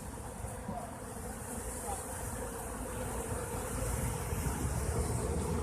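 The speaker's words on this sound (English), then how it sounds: "I think they're starting to swarm again." A swarm of honeybees buzzes in a steady, dense drone that grows slightly louder over time, with no clear voices over it.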